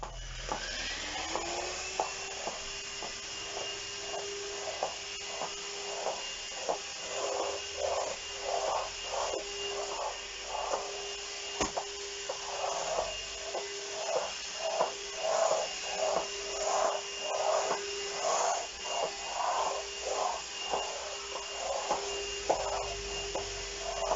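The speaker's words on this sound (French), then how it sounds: "Allez, Barbie va passer l'aspirateur." A vacuum cleaner runs with a steady whining hum while rhythmic back-and-forth swishes rise and fall as it is pushed across the floor, moderately loud and without talk throughout.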